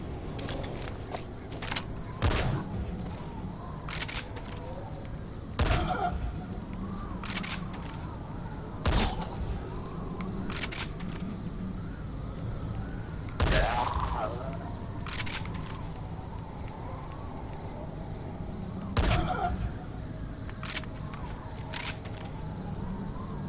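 Gunfire in the stealth action game Metal Gear Solid V, sharp bursts of shots spaced every few seconds over a low ambient bed of game sound.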